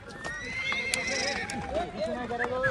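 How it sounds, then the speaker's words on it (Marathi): Horses in Baisaran Valley, Kashmir, neigh and whinny while their hooves clip-clop in a steady walking rhythm close by, with a person talking over the sounds. "घोडेच घोडे."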